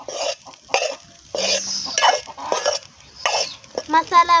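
Masala gets stirred in a cooking pot, with repeated close scraping and clanking strokes in bursts plus a brief rattle at the end, and no voices.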